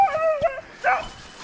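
A hunting dog whines and yips in a couple of short, high, wavering cries, close by, with a brief pause between them, during a driven hunt for wild boar and deer.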